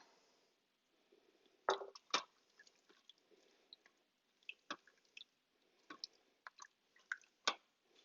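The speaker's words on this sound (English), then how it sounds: "you're going to pour the entirety of the 24 ounces of pasta sauce into the pot and give that a stir" Pasta sauce goes into an Instant Pot and gets stirred, giving faint wet squelching and dripping with scattered soft clicks and sloshes.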